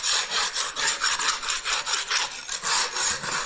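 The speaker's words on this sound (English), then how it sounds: "right now we're doing the scraping" A hand scraper grinds chunks off a concrete basement floor in steady back-and-forth strokes, about seven rasping passes in quick rhythm, close and loud with no talk.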